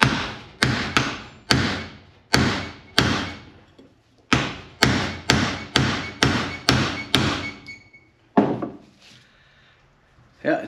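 Sharp metal-on-metal hammer blows strike a socket extension to drive axle parts out of an aluminum housing on an Arctic Cat Prowler 650 H1, about a dozen loud, evenly spaced hits with short pauses between.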